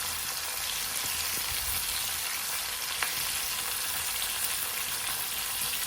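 Fish frying in hot oil, coated with masala powder, chili powder and turmeric, gives a steady, dense sizzle with soft crackles throughout and no talking.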